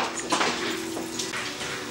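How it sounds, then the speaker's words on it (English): Running tap water splashes over hands being rinsed in a kitchen sink, a short, soft, steady wash of water. "as soon as I rinse my hands off"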